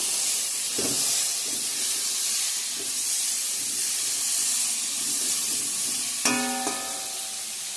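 Spice paste of tomato, onion and chilli sizzles in a hot pan, a steady loud hiss with brief stirring scrapes and a sharp clatter near the end, with no talking.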